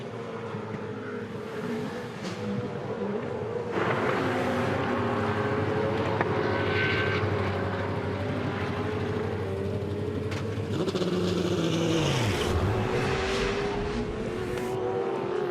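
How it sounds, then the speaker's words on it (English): Supercars circuit racing at Queensland Raceway, a steady loud engine roar with a car sweeping past and its pitch dropping around the twelfth second, continuous with no talking. "James Courtney leads the way, 30 laps down in race 9 at Queensland Raceway"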